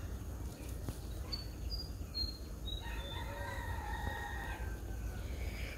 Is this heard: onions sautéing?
no